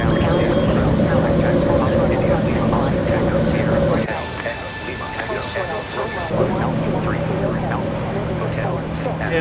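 Boeing 777 jet engines climbing after takeoff in a flight simulator, a loud steady roar with a drop in intensity partway through, then settling to a lower sustained hum, while a voice talks over it.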